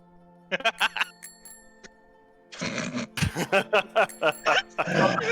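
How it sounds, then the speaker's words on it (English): A bicycle bell rings out in a few quick, close, bright bursts on a rooftop, followed by people talking. "you hear like the little freaking ring ring of her bell"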